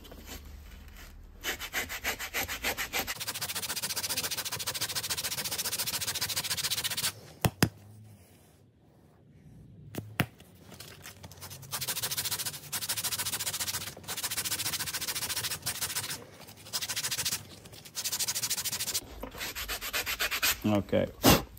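A vinyl snowblower seat cover on a Toro snowblower being hand-sanded with 60 grit sandpaper, brisk repeated rasping strokes in bursts, close and loud, with a short pause midway and no talking.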